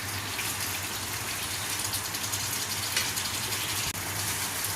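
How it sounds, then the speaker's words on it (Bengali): Water gushes steadily into a hot pan of fried paneer masala, a continuous broad rushing pour lasting several seconds with a brief break near the end, no talking. "এর মধ্যে একটু জল দিয়ে দিচ্ছি"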